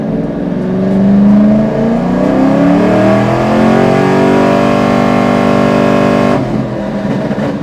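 A Chevrolet Camaro with a BTR Stage 3 cam LS3 V8 running on E85 pulls hard in third gear on a dyno, its loud engine note climbing steadily in pitch for about six seconds before abruptly lifting off.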